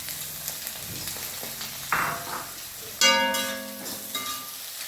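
Long-sliced onion drops into hot oil with popped mustard seeds for a jackfruit-skin curry, giving soft sizzling and frying with a sharp burst of hissing as ingredients hit the pan, close and alone.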